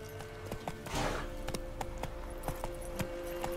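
Roach, a horse in The Witcher 3, trots over with steady hoof clip-clops and faint tack jingling, fairly close and mid-level, with a steady hum beneath.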